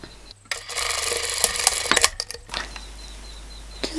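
A sewing machine runs for about two seconds, stitching elastic onto a fabric strap for a spring top, a close, steady whir that stops abruptly, followed by quiet handling of the fabric.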